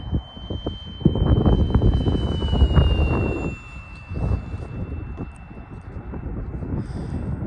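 A radio-controlled model Pilatus PC-21 airplane whines overhead with a thin, high engine tone that slowly shifts pitch, while wind buffets the microphone with low rumbling gusts.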